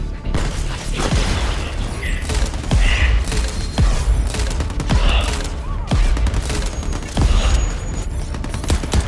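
Rapid gunfire from Crackdown 3 rattles on continuously, with bursts of automatic shots and heavier thumping impacts layered over a dense, loud battle din.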